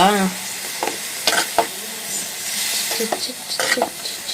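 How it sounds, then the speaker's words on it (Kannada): Capsicum frying in melting butter in a pan, a steady sizzle with stirring scrapes and a few utensil knocks, close, with brief voice sounds at the start. "ಈ ಬಟರಲ್ಲೇ ಇದನ್ನು ಫ್ರೈ ಮಾಡಬೇಕು ಅದು ಫುಲ್ ಕರಗುತ್ತೆ"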